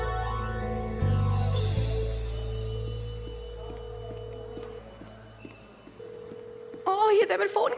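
Phone call tones: a steady dial or ringback tone plays with a brief dialing burst partway through, then a run of pulsed ring tones, and a voice breaks in near the end.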